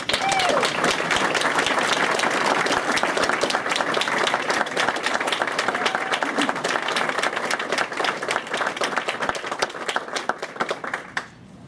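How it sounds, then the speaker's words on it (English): Audience applause at a smart cities press conference, a crowd clapping steadily with individual claps standing out, fairly close, gradually thinning toward the end, with faint voices underneath. "Let's give them a round of applause."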